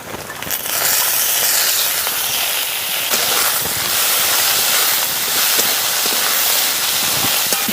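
Chopped carrots and beans dropped into hot, half-fried spices in a pan, bursting into a loud, bright hiss that settles into a steady, close sizzle with scattered crackles.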